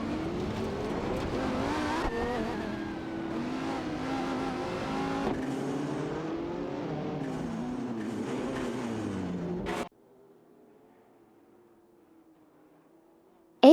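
Engines drone as a Radical RXC and a Lamborghini Huracan Performante race in a video game, a continuous revving roar with shifting pitch that cuts abruptly to near silence.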